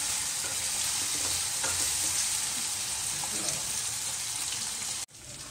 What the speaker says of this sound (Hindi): अब हम इसको 2 मिनट के लिए भूनेंगे।